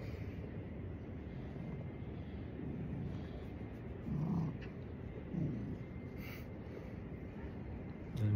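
A cat purrs close up in a low, continuous, rumbling drone, with a couple of slightly louder swells partway through and no talking over it.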